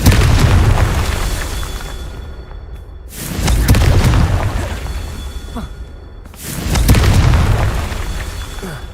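Confringo explosive spells in Hogwarts Legacy go off as three loud booming blasts, each a broadband burst that swells and slowly decays, spaced roughly three seconds apart, with no talking.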